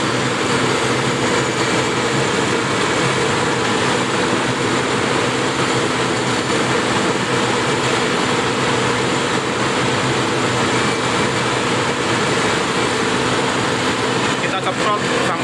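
A Toyota Kijang engine runs steadily at 2000 RPM during spray carbon cleaning, giving a constant dense whirring drone with no change in level throughout.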